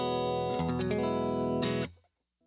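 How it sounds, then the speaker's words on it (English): A clean electric guitar with no effects, played dry, rings out as a short sustained chord with a change partway through, then cuts off and fades into silence. "Here's the guitar tone with nothing else."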